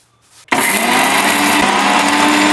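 After a brief quiet moment, an electric kitchen mixer grinding fenugreek, cumin and black pepper for rasam starts abruptly and whirs loudly and steadily at close range.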